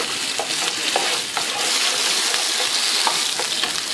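A pan of sauce for sea bream fillets, spiced with harissa, sizzles loudly and steadily while a utensil stirs it, with soft scraping taps breaking through the constant frying hiss up close.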